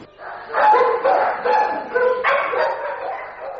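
A small white dog barks in a series of sharp, close yapping barks with whiny tones between them, several bursts over a few seconds, fairly loud.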